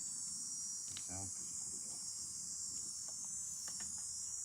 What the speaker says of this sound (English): Cicadas or something, I think.